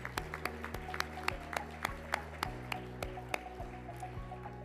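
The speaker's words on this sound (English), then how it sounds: "let's give him a round of applause" Scattered, thin clapping from an audience at an awards event, faint and fairly sparse, steady over a low sustained hum.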